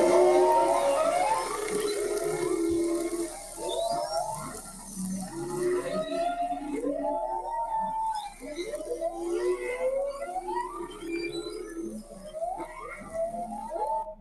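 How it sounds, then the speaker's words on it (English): Several humpback whales sing at once in a dense underwater chorus, overlapping moans, rising whoops and descending cries repeating steadily across the stretch against a constant hiss of ocean noise. "as more whales come into an area, they start to form a chorus, so they all are singing simultaneously"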